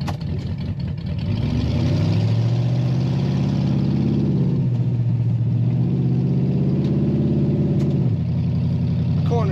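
A 1933 Plymouth 5-window coupe street rod with exposed pipes runs loudly and steadily close by, its deep engine rumble rising and falling slightly as it idles and revs, with no talking.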